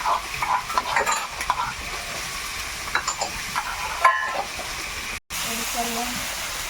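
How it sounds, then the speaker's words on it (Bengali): Duck meat frying with ginger garlic masala, sizzling loudly up close while being stirred with scraping strokes, and a voice talks briefly partway through. "আদা রসুন দিয়ে কষানো হয়ে গেছে এইবারে মাংস পড়ে যাচ্ছে"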